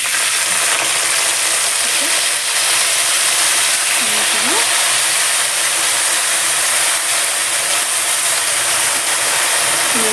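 Gongura leaves dropped into well-heated oil give a steady, loud sizzle and hiss that carries evenly throughout, with faint clinks of stirring.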